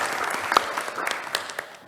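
An audience at a coastal resilience meeting applauds the launch of the Ocean Coastal Resilience Hub, with a brief round of scattered clapping that fades over about two seconds.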